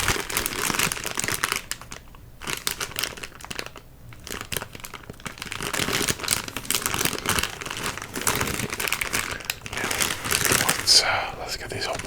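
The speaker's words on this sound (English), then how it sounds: "Let's get these open." Fruit candy packaging crinkles and crackles loudly up close as it is handled and opened, in bursts separated by short pauses, with soft whispering between.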